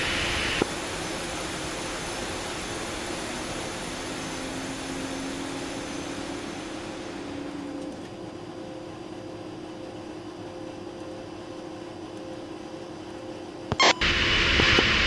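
Jet engine of an aircraft in the DCS flight simulator, a steady broadband roar that holds loud and even, thinning slightly partway through, with a brief sharp burst near the end.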